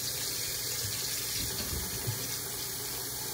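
Tap water runs steadily into a cooking pot in a home kitchen, a continuous close hiss and splash with no talking over it.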